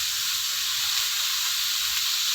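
Chicken spring roll filling seasoned with vinegar and black pepper sizzles in a pan, giving a steady, close bright hiss of frying with no talking.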